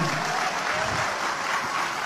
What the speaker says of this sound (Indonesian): Bapak Ibu sekalian tepuk tangan untuk Pak Anies Baswedan.